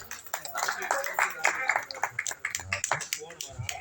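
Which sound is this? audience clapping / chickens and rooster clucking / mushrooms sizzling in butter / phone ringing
audience clapping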